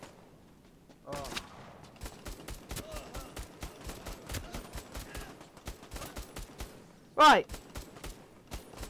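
Gunfire in the PSVR co-op shooter Bravo Team: a rapid, regular string of sharp shots that runs for several seconds, with one louder burst near the end and players talking over it.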